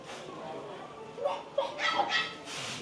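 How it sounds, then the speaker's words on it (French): Puppies in a small pet shop in Nakano Broadway, Tokyo, give a few high yips and whimpers between about 1.2 and 2.5 seconds, moderately close, mixed with shop chatter and a voice. "on tombe sur une petite boutique, voilà, où ils vendent des petits animaux, des petits chiens"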